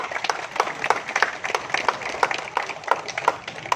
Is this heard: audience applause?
yes